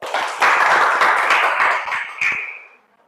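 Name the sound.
class clapping hands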